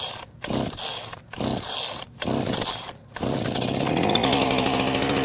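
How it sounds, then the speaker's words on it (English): An Echo CS-4910 or CS-590 chainsaw is started with four sharp pull-cord rips separated by short pauses, then catches and runs at a loud, buzzing, slightly pulsing idle close by. "I'm grasping the loop handle and pull as many times until the saw starts."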